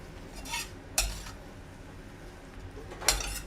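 Vegetables with ginger, garlic and fennel are gently stirred in a pan, giving a few soft scraping strokes and two sharp utensil clinks against the pan over a quiet sizzle.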